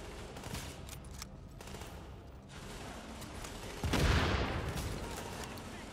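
Gunfire in the video game The Division sounds as a few scattered sharp shots early on, then a louder burst near the end, heard against a faint background with low game ambience.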